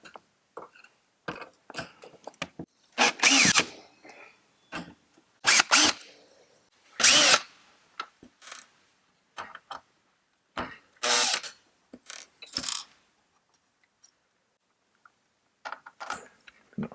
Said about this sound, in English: Unscrew the wire bracket.